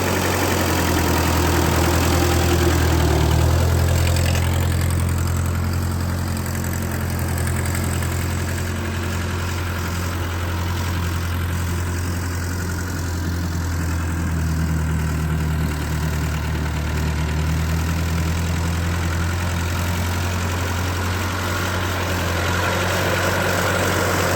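Ford 8N tractor engine fitted with an aftermarket exhaust runs steadily in third gear, a continuous low rumbling drone with a slight swell near the start, heard alone at close range.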